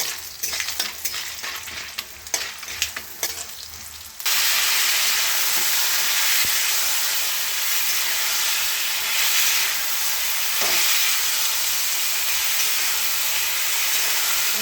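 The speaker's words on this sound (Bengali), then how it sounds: "পাঁচফোড়ন দিয়েছি, আর বড়িটা একটু অল্প বড়ি দিয়েছি, ভেজে নিচ্ছি।" Lentil dumplings (bori) fry with five-spice seeds in hot oil, starting with scattered crackles and stirring, then a loud, steady sizzle and hiss that carries on without a break.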